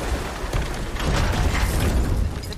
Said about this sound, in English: it looks like this machine is dropping ore into the water trough